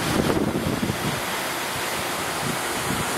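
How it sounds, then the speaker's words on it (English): A waterfall at a pool with small caves nearby gives a steady, dense rush of falling water, close and continuous with no talking. "So we got nice waterfall going on."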